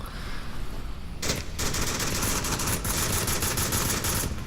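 Rapid automatic gunfire bursts and single shots crackle through a competitive match of the VR shooter Onward, loud and dense across the whole stretch with no talking.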